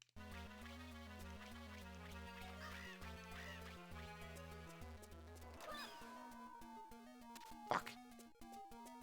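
Birds in the video game Boktai 2 give a few cartoonish quacks, set deep in a busy loop of steady in-game music. No voices are heard.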